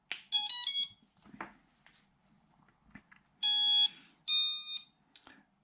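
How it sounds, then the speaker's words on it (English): A quadcopter's motors emit short, bright electronic beep tones from ESC commands at power-up. They come in two pairs of loud, clear chirps separated by a quiet gap, with faint clicks and handling noise in between. "the reason that we're getting little beeps and the motors are moving is that the flight controller is sending the commands to the ESCs"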